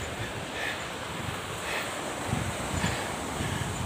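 Sea waves washing onto the shore, a continuous rushing surf with periodic swells, mixed with strong wind buffeting the microphone and no voices.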